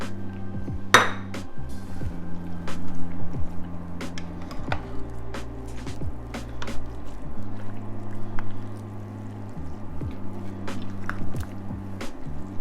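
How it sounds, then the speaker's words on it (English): Good Luck Soup being stirred in a pot, with repeated metallic clinks and scrapes of a spoon against the pot over a steady low mechanical hum. "And then give it a stir"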